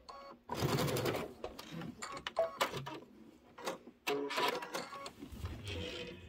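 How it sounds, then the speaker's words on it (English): A sewing machine stitches a quilt block to the corner in short, uneven bursts of whirring and clicks, stopping and starting several times with quiet gaps between. "I'm going to sew to my corner and off"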